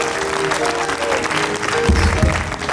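A church congregation claps in a continuous, moderately dense wave, with some low thumps and voices mixed in throughout.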